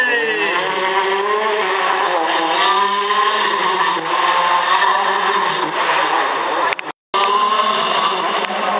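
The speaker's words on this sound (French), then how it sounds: "Sébastien Augier sur Polo R VRC qui précède Thierry Neuville sur une Fiesta RS VRC" Volkswagen Polo R WRC rally car roaring by at speed, loud and close, its engine note climbing and falling through the gears with a brief sharp cut near the end.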